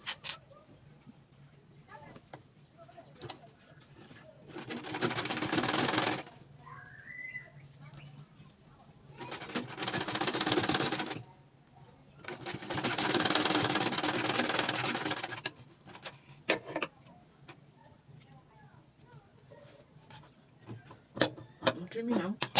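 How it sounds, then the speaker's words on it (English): Close, steady whirring of a sewing machine stitching the sleeve of a sequin baby dress, run in three bursts of a few seconds each with pauses and small handling clicks between, and quiet talk in the gaps. "So I'm going to just sew here. I'll sew here to close it up."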